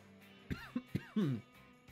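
A person coughs in a short burst of three or four rough, close coughs, the last one longer and more drawn out, over a quiet indoor background.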